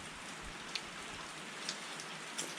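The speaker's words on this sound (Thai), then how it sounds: "ตอนนี้ฝนตกเนาะ" Steady rain falls in a rural Akha village setting, a soft continuous hiss with a few faint louder drops, no voices.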